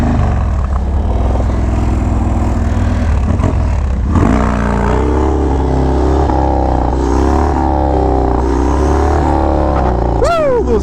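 A motorcycle engine revs hard and holds at high pitch, rising and falling during a wheelie on smooth roads of a Marine Corps base, loud and close throughout with a brief scrape near the end.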